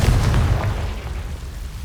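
A Confringo spell explosion in Hogwarts Legacy booms heavily at the start, a deep rumbling blast that gradually decays over about two seconds.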